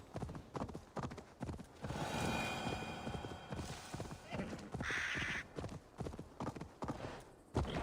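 Horse hooves clip-clop in a steady trotting rhythm in Assassin's Creed Valhalla, with game music running underneath and voices talking over the hoofbeats.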